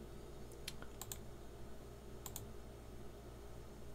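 Several light, crisp clicks from a computer mouse or keyboard sound close by over a quiet hum, scattered in small clusters in the first half and again briefly later, with no talking.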